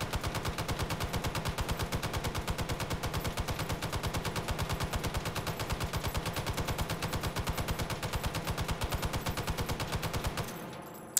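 Sustained automatic fire from an M60 machine gun in the VR shooter Hot Dogs, Horseshoes & Hand Grenades, a fast steady stream of loud close shots running unbroken for about ten seconds before cutting off abruptly.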